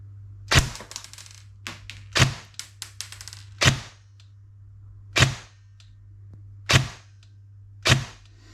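A G&G TR16 airsoft rifle fires single semi-auto shots through a chronograph, six sharp cracking pops spaced about one and a half seconds apart, each followed by a short rattling tail over a steady low mechanical hum.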